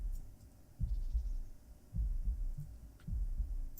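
A slow, low spooky heartbeat ambience from the Planet Coaster Spooky Pack throbs in a steady lub-dub rhythm, three soft double beats under a dark, hushed hum, with no talking.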